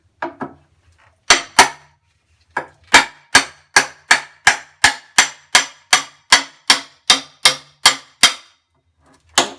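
A hammer strikes wooden wall boards during removal while a load center is being replaced, a few scattered blows followed by a fast, even series of sharp, loud, close knocks.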